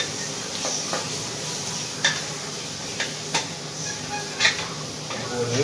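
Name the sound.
stirring masala in a pot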